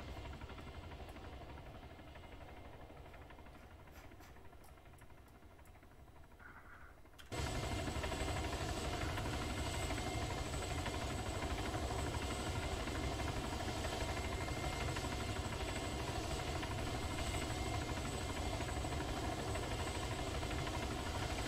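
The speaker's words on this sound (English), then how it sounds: "My burning helicopter." A helicopter engine in a military video game kicks in abruptly after a quieter stretch, then holds a loud, steady, close engine roar with rotor vibration and no talk.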